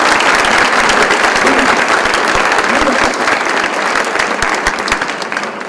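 Loud, sustained applause from a crowd at a community seder, thick continuous clapping that fades slightly toward the end, with faint voices mixed in.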